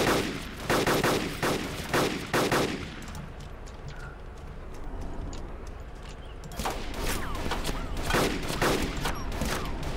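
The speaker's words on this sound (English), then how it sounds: "Shoot it and shoot his wheels." Repeated gunshots in the video game DayZ, several loud cracks in quick bursts at the start and again near the end, with a quieter stretch of noise in between and no talk.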